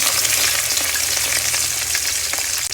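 Four chopped medium onions fry loudly in oil for a spiced mutton curry, a dense close-up sizzle that holds steady with faint stirring movement underneath and no voices.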